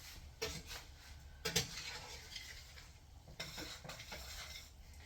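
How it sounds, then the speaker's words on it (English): Mac and cheese stirred in a pot, with quiet scraping and clinking of a utensil against the pot and a faint sizzle, close and intermittent with no talk. "give our mac and cheese a stir"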